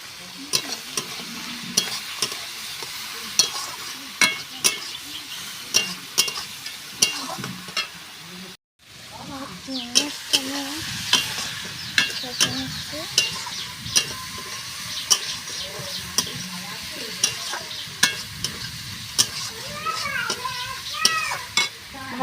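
Onion and spices sizzle in a pan for a Bengali cabbage dish while a utensil stirs and scrapes repeatedly, giving a close, busy mix of frying hiss and rhythmic metallic clatter.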